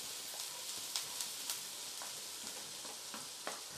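Ginger garlic paste sizzles in a pan on a low flame as chopped onions are added, a soft, steady frying hiss with small crackles and pops scattered throughout.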